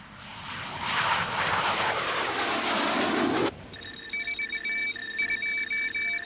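A French Air Force Jaguar jet roars past with a loud, rising-then-falling engine sweep lasting a few seconds, cutting off abruptly into a repeating electronic tone pattern.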